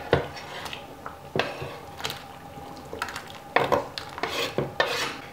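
Chopped blood going into a broth pot and being stirred, with repeated sharp clinks and scrapes of a utensil against the pot over a soft simmering background, close and fairly quiet.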